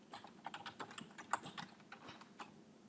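Quiet, irregular clicks of fingers typing a file name on a computer keyboard: a quick run of separate keystrokes, close up, with no voices.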